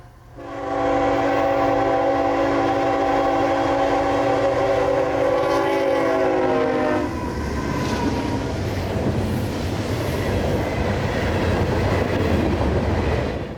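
Southbound freight train M457 near Folkston, Georgia, at night, with an Ohio Central SD40 trailing: a loud multi-tone horn blast for several seconds, then the heavy roar and rumble of the passing train continuing close by, no voices.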